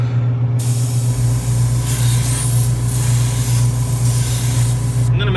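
A spray gun lays a super wet final coat of paint over gray primer, giving a loud, steady hiss that runs almost the whole time, with short pauses between passes and a low hum beneath.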